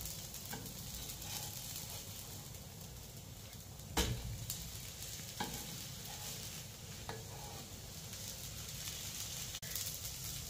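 A dosa fries on a hot pan with a steady, close sizzle and soft crackle throughout, broken by a few sharp scraping clicks of a spatula lifting it, with no voices.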